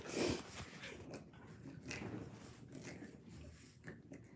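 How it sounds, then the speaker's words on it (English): Recently fed puppies shuffle and root around close by, giving soft snuffling, small whimpers and faint grunts over a low, busy rustle, with no one talking. "I could show you cute puppies if you'd like."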